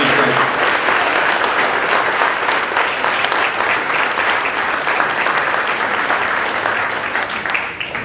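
At a presentation day ceremony, an audience gives a sustained round of loud, dense applause that holds steady and eases slightly toward the end.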